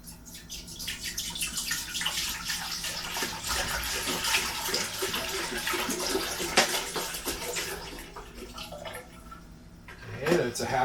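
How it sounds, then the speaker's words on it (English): Apple cider pours steadily into a pot for several seconds, a close, continuous splashing gurgle that tapers off near the end. "I'm going to go ahead and pour that in the pot."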